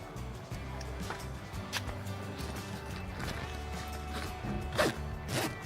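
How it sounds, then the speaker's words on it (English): The zipper of a soft shell rooftop tent's bag is pulled in a few short, scratchy bursts, fairly quiet and close, with some rustling of fabric between pulls. "And you just unzip the bag."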